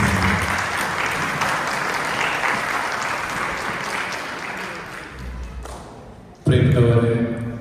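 An audience at a Christmas program claps in sustained, loud applause that gradually fades, then a fresh close burst of clapping breaks out near the end, with some voices mixed in.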